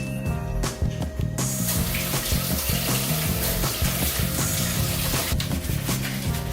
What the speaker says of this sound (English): I am going to wash my hands